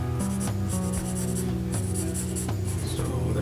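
Pencil scratching lines back and forth on paper while drawing a hand, a close rhythmic rasping of repeated strokes over a steady low hum.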